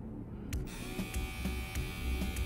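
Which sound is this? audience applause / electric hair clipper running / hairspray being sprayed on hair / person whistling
electric hair clipper running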